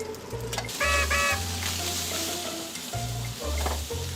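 Bacon sizzling and frying on a grill, a steady hiss that runs throughout, with low rumbling bursts and a few brief high electronic beeps over it, and no talk.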